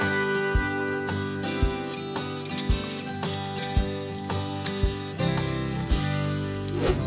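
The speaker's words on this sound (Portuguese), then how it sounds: "O bacon eu vou fazer igual tá na embalagem também, é pra fritar de 4 a 6 minutos." Bacon frying in a pan crackles and sizzles steadily underneath loud, prominent music, with occasional sharper pops and taps.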